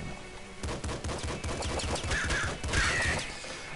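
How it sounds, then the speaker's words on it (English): Crow enemies in the Nuclear Throne video game firing burst shots, a quick run of rapid gunfire pops with cawing bird cries layered over busy game effects, no talk. "We have these stupid-ass crows that fly around and be obnoxious in general and shoot burst shots."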